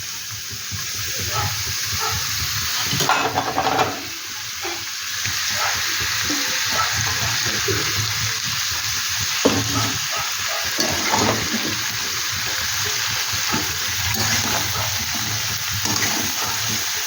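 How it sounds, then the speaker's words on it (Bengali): A little rinse water from a washed bowl goes into a hot kadai, with a brief burst around the pour and then a continuous loud sizzle and hiss of cooking. "শুধু এই গামলাটা ধুয়ে আমি এক ফোঁটা জল দেব"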